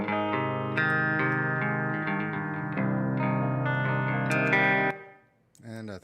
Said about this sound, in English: Let's try the room reverb and see how it sounds first.